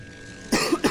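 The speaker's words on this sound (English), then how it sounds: "There's my perennial cough." A short burst of two or three quick, close coughs from a StarCraft game commentator, coming right after a stretch of quiet.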